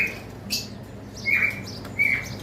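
Cockatiels and lovebirds in a cage, calling with a few sharp, shrill chirps and squawks spaced out over a soft background hum, fairly close.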